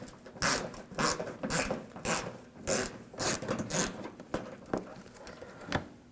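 A ratchet fitted with a 7mm socket backs out a screw on the front lower grille of a 2007–2013 BMW 328i, giving repeated short bursts of clicking close by, with no talk.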